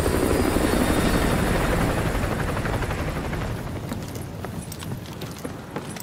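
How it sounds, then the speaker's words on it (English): An enemy helicopter in Call of Duty Modern Warfare 2 Remastered thumps with loud, rapid rotor chopping that is strong at first and then slowly fades as it moves away, leaving faint clicks behind. "Enemy helo patrolling the perimeter."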